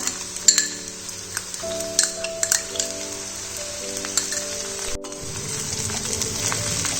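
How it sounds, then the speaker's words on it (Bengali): Vegetables being stirred in a pan with mustard and green chilli paste, a spatula scraping and clinking against the metal repeatedly over a steady sizzle, with a held musical tone underneath. "সরষেটা ভালো করে সবজিগুলোর সাথে মিশিয়ে নিতে হবে।"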